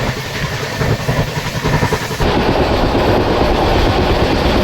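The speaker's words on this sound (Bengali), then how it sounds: "দুপাশে পাহাড়, মাঝখান দিয়ে ট্রেন চলছে।" The Howrah–Agra Cantt Chambal Express runs on tracks between hills, a loud, steady rumble and rattle of wheels that grows heavier and denser partway through and carries on without a break.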